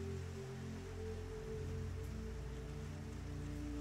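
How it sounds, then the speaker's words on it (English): Soft, steady rain falls outside in New Orleans, a faint continuous patter under low sustained droning tones, with no voices. "The rain continues to fall"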